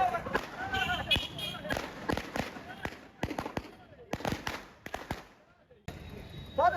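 Diwali firecrackers burst in a rapid irregular string of sharp cracks and pops, some loud and near, others fainter, with people talking and calling out between the bangs.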